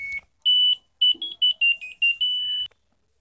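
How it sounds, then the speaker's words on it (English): LG 6.2 kg fully automatic top-loading washing machine, model T72CMG22P, plays its end-of-cycle tune: a short sequence of clear electronic beeps forming a melody, ending on a long held tone. "In all the wash types, you get to hear music at the end of process."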